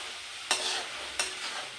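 Dill greens frying in a pan, stirred twice with sharp scraping strokes over a steady close sizzle; no one speaks.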